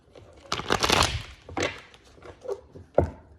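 Tarot cards shuffled by hand in a few quick bursts of riffling and tapping, close and moderately loud, separated by short pauses, with a faint voice murmuring now and then.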